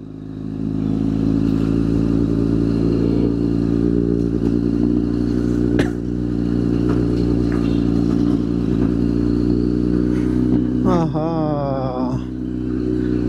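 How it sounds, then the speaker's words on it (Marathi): A superbike on a group ride near Kas Pathar drones with a loud, steady engine note, close and continuous, with a brief rising rev and whine toward the end. "काय आवाज आहे राव गाडीचा"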